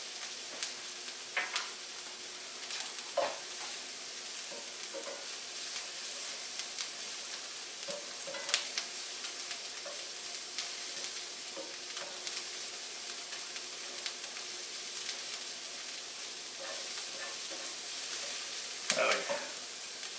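Garlic cloves sizzling in a pan as the base for packaged ramen with shrimp and bacon: a faint, steady frying hiss with occasional crackles and small clinks, no talking.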